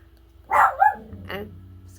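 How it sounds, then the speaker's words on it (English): A small puppy gives a couple of sharp, close barks indoors, reacting to someone outside, with quiet room tone before and after. "And excuse my little puppy, my Roxy."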